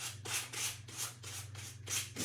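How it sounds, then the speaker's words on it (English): Sandpaper rubs across the wooden top of a vintage clock in quick, even back-and-forth strokes, about eight passes, close and fairly soft. "Make sure you have fresh paper, fresh sanding paper."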